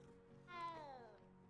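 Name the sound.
cat meowing in video game Hogwarts Legacy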